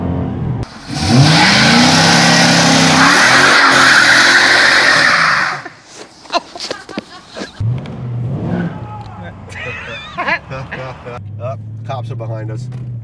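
Car engine revved and accelerated hard through Times Square, a loud roaring burst for about five seconds, followed by street noise while people shout and talk nearby.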